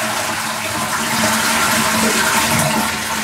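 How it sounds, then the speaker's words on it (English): A toilet flushing during a repair job, a loud steady rush of water filling the whole moment with no talk over it. "Flush it then."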